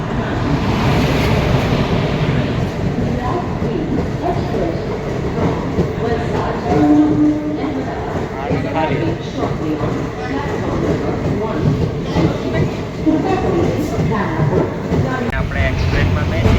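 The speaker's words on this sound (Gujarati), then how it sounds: "આપણી ગાડી આવી ગઈ છે।" The Gujarat Queen express rolls into Udhna railway station, a loud rumbling rush of carriages with rhythmic wheel clatter and metallic squeal over a crowded platform, with people talking nearby throughout.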